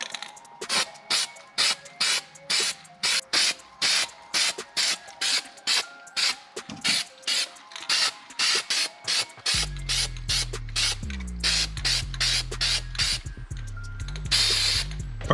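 Copper-coloured spray paint being applied to cosplay prop parts for a Bioshock syringe, heard as a long run of short, evenly spaced hissing spray bursts, then a steady low hum joins under the later sprays.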